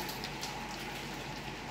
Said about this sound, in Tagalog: May kasamang ice yata ang ulan.